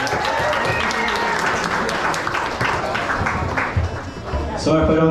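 Loud audience applause and cheering at a warehouse gig fill the whole stretch up close, a dense continuous roar of clapping with a voice shouting over it near the end.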